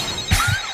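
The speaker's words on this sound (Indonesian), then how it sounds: "tiba-tiba ponselnya berdering" A mobile phone rings in an anime scene with a brief electronic tone that holds steady for under a second, fairly loud, with a small knock partway through.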